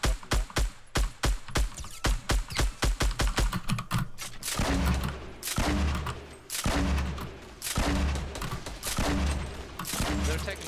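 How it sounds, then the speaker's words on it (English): Enemy gunshots in Fortnite crack from a mountain above, first as a quick regular string of sharp shots, then as heavier, irregular bursts over a noisy in-game background. "They're taking shots from the mountain above us."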